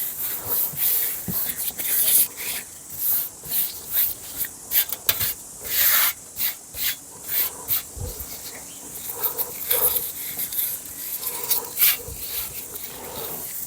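Coarse coco fiber being handled and pulled apart by hand while repotting a cactus, producing close, rhythmic scratchy rustles and rubbing bursts, fairly soft and repeated steadily.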